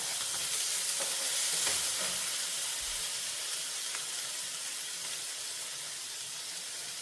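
Chopped tomato sautés in a pan, making a continuous close hiss and sizzle that stays even throughout with no voices.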